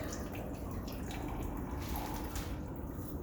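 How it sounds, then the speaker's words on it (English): Water dripping and running off a soaked sheet of printing paper in an etching studio, a steady close trickle of splashes lasting throughout, fairly loud and continuous. "Let it drip off."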